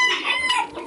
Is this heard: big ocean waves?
no